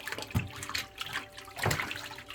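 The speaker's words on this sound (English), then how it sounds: "And then mix it around with the squeegee." Squeegee stirred through soapy hot water in a window-cleaning bucket, giving close, uneven sloshing and swishing with a couple of heavier splashy strokes.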